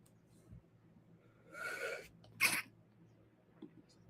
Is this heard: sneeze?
yes